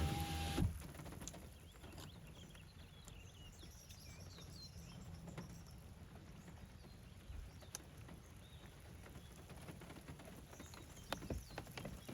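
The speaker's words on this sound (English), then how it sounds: "have to roll up the window or two" A power car window winds up in a short motorized whir near the start, followed by a long stretch of soft, steady rain-like ambience with scattered small ticks and no talking.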